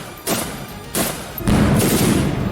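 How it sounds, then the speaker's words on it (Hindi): Several heavy gunfire bursts from Russian soldiers firing on Ukrainian positions in the Russia-Ukraine war crack out one after another, loud and booming, with a continuous rumbling din filling the gaps between shots. "इस दौरान रूस के कुछ सिपाहियों ने यूक्रेन के ठिकानों पर दनादन गोलियां भी बरसाईं"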